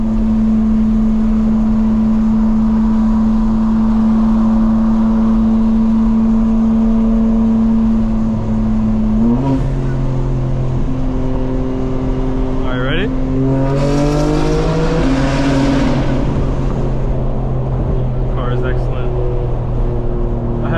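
A modified 2024 BMW M4 Competition drones at steady revs, then its engine note climbs and swells loudly as it accelerates through a tunnel, echoing close and dense before settling again.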